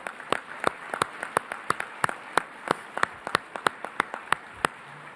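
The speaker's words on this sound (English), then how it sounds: "Let's give him a round of applause." Audience applause at a Republican National Committee meeting, heard as a thin, sparse run of individual sharp claps at a fairly steady rhythm in a large hall, moderately distant and without talk.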